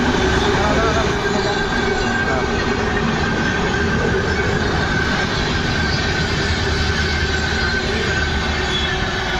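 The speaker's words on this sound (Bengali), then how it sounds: "মাঠটা ফেলা আছে ওদিকে ট্রেন যাচ্ছে" A train passes near a fishing pond, a loud continuous rumble of rolling wagons with steady wheel noise and faint squeal throughout, no pauses.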